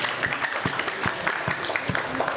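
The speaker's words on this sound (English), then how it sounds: "Clapping for Anika." A classroom of students claps for a fellow student at a university AI lecture, a brief burst of scattered, overlapping hand claps at moderate distance.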